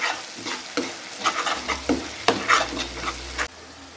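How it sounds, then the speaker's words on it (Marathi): Pav bhaji being stirred in a pan with butter, a spoon scraping and clattering through the thick mixture over a steady frying sizzle, with repeated close strokes and no talking. "ढवळून घ्यायचं, त्याला हलवायचं."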